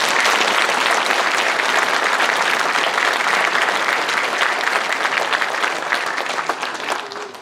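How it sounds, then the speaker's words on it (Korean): Sustained, dense applause from a large audience at a Sejong City sports council inauguration ceremony, loud and steady throughout before tapering off at the end. "다시 한번 박수 부탁드립니다"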